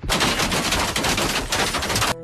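Sustained automatic machine gun fire from a RimWorld battle, a dense unbroken rattle of rapid shots lasting about two seconds before cutting off abruptly.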